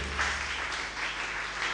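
A church congregation claps together during a Sunday service, a steady dense wash of applause that fills the whole short stretch with no pauses.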